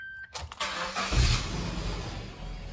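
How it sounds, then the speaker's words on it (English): A car engine cranks and catches, then settles into a steady idle, close and fairly loud with no talk over it, on a four-wheel-drive vehicle fitted with a compressor and front and rear diff locks. "So let me first start the car, get it in third gear so the wheels can turn."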